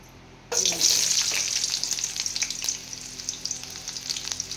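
Onions drop into hot oil in a pan and burst into a loud, steady sizzle that stays close and constant, with light stirring crackles throughout.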